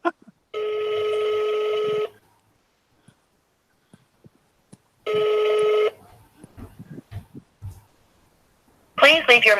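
A phone call rings out over speakerphone in two long electronic ring bursts separated by a pause, followed by faint clicks and a voice speaking at the end.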